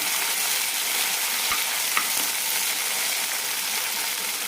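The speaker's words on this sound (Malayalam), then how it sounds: "ഇതിലേക്ക് ഒരു തക്കാളി അരിഞ്ഞതും നാല് പച്ചമുളക് അരിഞ്ഞതും ഇടാം നന്നായി വഴറ്റിയെടുക്കാം" Chopped tomato and green chillies sauté in hot oil with a dense, steady sizzle, broken by a couple of faint clicks from a stirring spoon.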